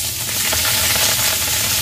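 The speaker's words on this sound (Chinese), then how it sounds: "煎咗有皮嗰边先" A salmon head pan-fries skin side down in a little oil over low heat, giving a steady, dense sizzling hiss that stays close and constant throughout, with no talking.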